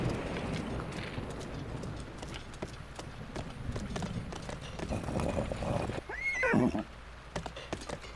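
A horse in Zelda: Breath of the Wild clip-clops steadily throughout, then lets out a loud, clear whinny near the end, close and prominent over soft game ambience.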